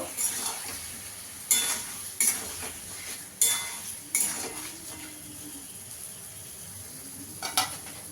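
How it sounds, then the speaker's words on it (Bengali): Sour yogurt with spices being sautéed in a pan for chicken pulao: a soft sizzle under loud metal spoon clanks and scrapes against the pot, several sharp hits spaced apart, no talking. "ভালো করে একটু কষিয়ে নেব।"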